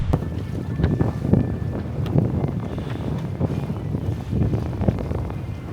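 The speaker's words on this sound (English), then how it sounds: "So with the sails up, it was time to enjoy the nice sail down the Solent towards the Needles" A tall ship under full sail running down the Solent toward the Needles, with steady wind buffeting and low rushing water noise surging in irregular swells, fairly close and continuous, no voices.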